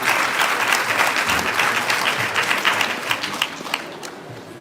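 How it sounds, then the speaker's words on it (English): A school audience applauds at a primary school awards event, dense continuous clapping from many hands that gradually tapers off before cutting out. "You can applaud, thank you."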